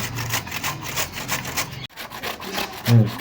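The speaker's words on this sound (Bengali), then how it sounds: "এবার চাল কুমড়োটা ঘষে নেব।" An ash gourd is grated by hand in a home kitchen, giving quick, close, rhythmic rasping strokes in a steady series, with a brief pause near the middle and a small knock at the end.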